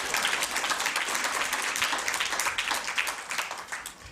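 An audience at an awards reception breaks into steady clapping, a dense wash of many hands at moderate volume with slight swells, sustained throughout.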